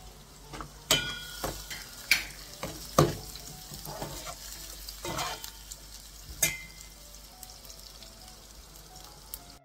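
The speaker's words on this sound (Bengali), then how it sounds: "আমাদের পেঁয়াজটা একটু হালকা ট্রান্সলুসেন্ট ভাজা হয়ে গেছে" Onion fries in oil in a pan with a soft, low sizzle. Scattered sharp taps and scrapes of a spoon against the pan come through at intervals, and the scene is quiet otherwise.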